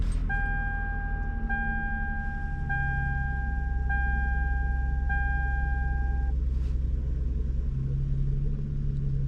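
A Toyota Sienna minivan engine idles steadily after steering shaft repair work, a low constant rumble with a series of evenly spaced electronic chimes or beeps over it.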